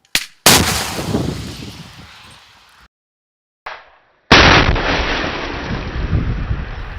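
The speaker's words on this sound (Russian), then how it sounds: "в дело вступают снайперы с бронебойно-зажигательными патронами" Two loud, sharp sniper rifle gunshots, each followed by a long echoing boom, separated by a quieter crack and stretches of silence, in combat at Marinka.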